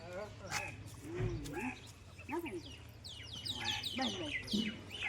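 Birds at a village home in Gujarat chirping while grain is scattered for them, with many overlapping short tweets and calls that are fairly close. A person's voice is heard at times among the chirps.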